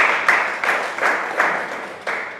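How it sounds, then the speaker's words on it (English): A small audience at a Toastmasters club meeting in Mussafah claps for a speaker, a sparse patter of several distinct bursts of hand claps rising and falling, fairly close and moderately loud. "let us give him a round of applause"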